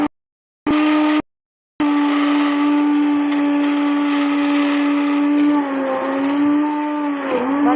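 A kitchen blender whirs loudly and steadily, blending strawberries and mulberries into a milkshake, with two brief pauses near the start before a long continuous run whose pitch dips slightly toward the end.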